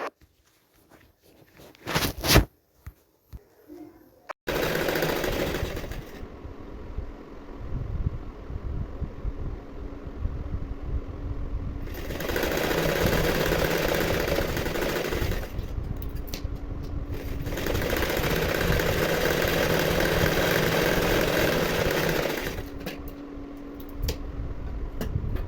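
A sewing machine stitches the lining of a blouse along a button placket. After a few faint handling knocks, the motor whirs in long continuous runs that briefly pause and restart, fairly close and steady.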